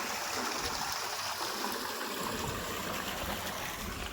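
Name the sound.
water flowing fast through village farm channel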